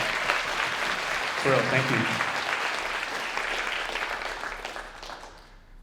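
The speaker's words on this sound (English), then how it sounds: "If y'all can give a huge round of applause" Graduation celebration audience applauding, a dense, sustained wash of clapping that fades toward the end, with a person speaking briefly over it.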